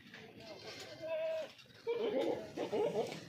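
Goats on a goat farm, one of them a 37-height goat, bleat in drawn-out calls: one near bleat, then a longer wavering pair, mixed with people talking.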